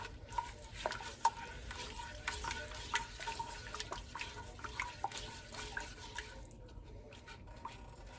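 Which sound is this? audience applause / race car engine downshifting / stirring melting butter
stirring melting butter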